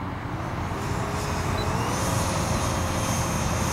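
An RC model aircraft built for thrust vectoring flies by with a steady engine whine against broad outdoor noise, growing slightly louder and holding at a moderate distance.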